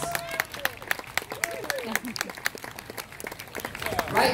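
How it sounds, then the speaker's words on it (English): Audience applause at the Magic Kingdom flag retreat ceremony, a dense patter of outdoor clapping sustained for a few seconds, with a voice briefly audible over the crowd. "Let's give her a round of applause."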